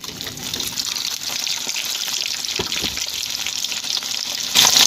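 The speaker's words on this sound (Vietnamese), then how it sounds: "Lần hai này thì mình sẽ chiên cho nó vàng lên luôn nha cả nhà." Chicken breast sizzles during a second deep-fry in hot oil, a continuous loud crackling hiss with a brief burst of stronger bubbling near the end, no voices.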